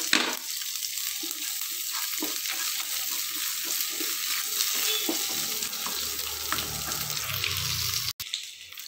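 Cardamom and cashew nuts frying in a pan for poha pongal, giving a steady bright sizzle that holds evenly throughout, with faint stirring scrapes and a brief dropout near the end.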